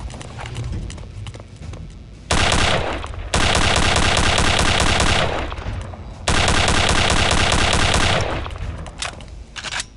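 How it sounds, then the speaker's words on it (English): The Venom gun fires in the video game Return to Castle Wolfenstein: two long, loud, rapid-fire bursts separated by a short pause, with quieter game noise around them. "This is the secret weapon they've been talking about with the venom gun as well."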